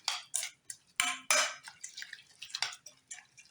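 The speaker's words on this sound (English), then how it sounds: "I'm just going to give everything a mix" Enchilada ingredients with garlic being stirred in a pot, giving a run of close, irregular clanks and scrapes of a utensil against the pot with wet, sloshing bursts between them.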